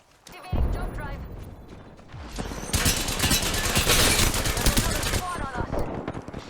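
Rapid bursts of automatic gunfire in an Apex Legends match, dense and loud, running almost continuously after a short lull, with clattering game effects mixed in.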